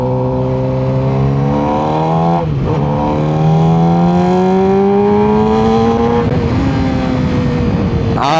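A 600cc sport motorcycle engine revs hard and climbs through gears, a loud rising whine with sharp dips at each shift, close and continuous with no speech.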